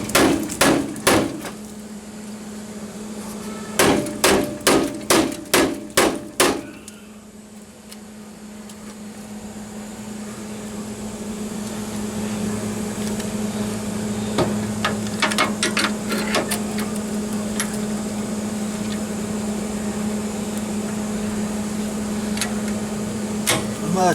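Metal hammer blows pound down a raised hump in Jeep Wrangler YJ sheet metal over frame tubing, sharp ringing strikes in quick bursts, a rapid run of about six, then scattered clusters over a steady shop hum.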